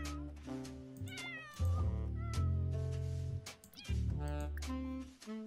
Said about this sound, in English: Let's just try and get this cat to be our friend.